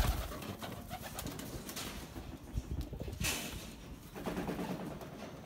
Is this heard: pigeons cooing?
yes